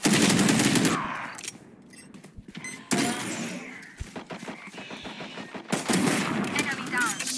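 Automatic turret fire in Valorant, rapid bursts of gunfire crackling loudly at the start and again near the end, with a quieter stretch between carrying sharp clicks and clattering game sounds.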